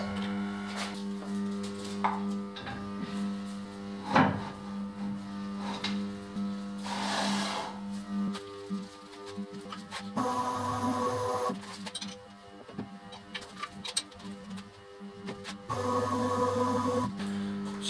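Cutting a roughly 9.5 mm corner out of a piece of cast iron for a mini lathe bed, heard as steady mechanical machining noise with shifting bursts of grinding and rasping, close and fairly loud throughout.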